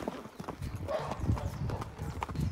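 A mare's hooves clip-clop steadily as she approaches outdoors, moderately close, with faint voices in the background.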